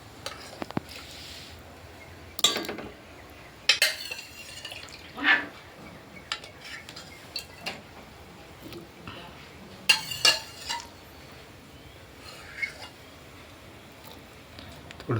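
Moringa drumstick pods tossed into a hot pan and stirred, with scattered metal spoon scrapes, clinks and light sizzling across a long stretch, no voices.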